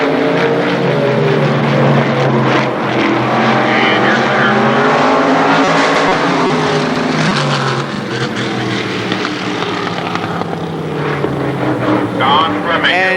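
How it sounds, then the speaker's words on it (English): E-Modified race cars lapping an oval speedway during a memorial race at Shadybowl Speedway, a loud continuous engine roar that rises and falls as the pack passes, with a public address announcer talking over it. "Your leader is still Don Fleming Jr. Mike Carroll running in second."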